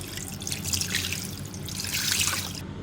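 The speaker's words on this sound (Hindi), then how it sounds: "नीचे निकल जाएगा पानी सारा।" Rinse water draining and dripping out of washed chhena in a strainer, a close, continuous trickle with splashy drips, fairly loud and without talk.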